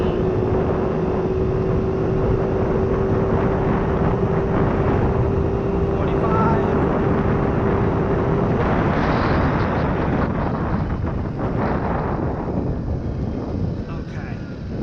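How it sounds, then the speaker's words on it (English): A GY6 scooter fitted with 8-gram sliders revs steadily at full throttle, a continuous loud engine drone with a rising tone and strong wind buffeting against the microphone throughout. "So right now 35, open full throttle, which I got right now, open full throttle."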